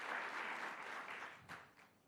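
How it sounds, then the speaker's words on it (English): Applause from the audience at a government mental health budget event, a soft, distant wash of clapping that gradually fades. "Let's give them a round of applause as well."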